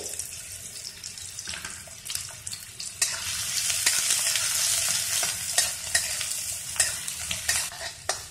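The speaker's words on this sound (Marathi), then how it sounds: "आता आपला कांदा भाजत चाललेला आहे" Chopped onion sizzles and fries in a pan for a Marathi kurdai bhaji, with a steady, close frying hiss and repeated stirring scrapes that grow louder partway through.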